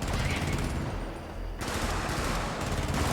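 An automated turret in Helldivers fires a long rapid stream of shots, loud and steady with a short dip midway, layered with other battlefield gunfire.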